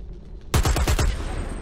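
Machine gun fire in the shooter Dirty Bomb, a sudden rapid burst of about five close, heavy shots after a quiet moment, followed by a ringing tail.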